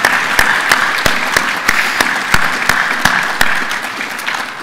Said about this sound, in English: I wish to call for a round of applause for Terry Dunleavy and Brian Leyland